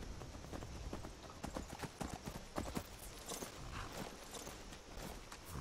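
Horse hooves in the game Skyrim Special Edition, a steady clip-clop of a ridden horse walking, fairly faint and continuous with no talk.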